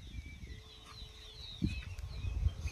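Birds in the evening forest of Muthanga wildlife sanctuary give thin, faint chirps and whistles over a low rustling background, with a few soft thuds nearby.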